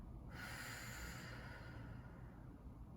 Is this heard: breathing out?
yes